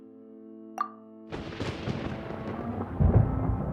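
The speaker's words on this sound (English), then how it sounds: "Paimon hears thunder!" Thunder in the game Genshin Impact begins with a brief plop-like pop, then a broad rumbling roll breaks in and swells toward a heavier boom near the end, without speech.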